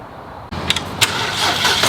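A BMW 335i with a turbocharged engine, left sitting for nine months, cranks over to prime the turbo with oil, a sudden loud, rough mechanical whir that holds steady for over a second without catching.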